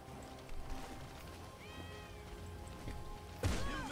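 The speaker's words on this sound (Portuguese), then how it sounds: "Tem um gato miando." A cat meows in the video game GTA 5, with faint drawn-out cries under background noise and then a louder, sharper yowl near the end.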